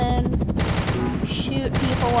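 Side-mounted gunners on a helicopter in Roblox Oil Warfare Tycoon fire rapid, loud machine-gun bursts, sharp repeated cracks in quick succession filling the moment.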